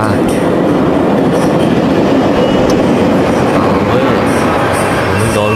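A train rumbles past in the video game Syndicate, a dense, steady roar of rolling wheels with faint clatter, loud and continuous throughout.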